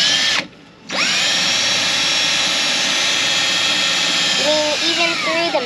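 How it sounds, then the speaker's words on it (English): A power drill bores through metal with a loud, steady high whine. It cuts out briefly near the start, then spins back up and runs on, with its pitch shifting toward the end as the bit works through. "So now you've got to drill this all the way through."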